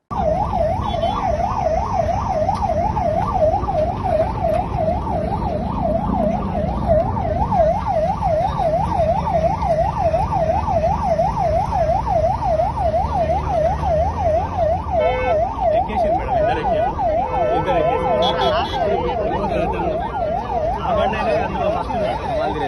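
An ambulance siren wails loudly and continuously with a rapid, steady warble at a roadside accident involving an MG Hector, while traffic rumbles faintly underneath.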